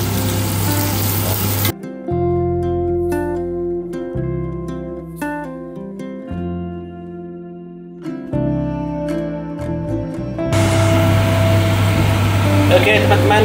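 Fish frying in hot oil in a wok gives a loud, steady sizzle at the start and again near the end, with a passage of music filling the middle.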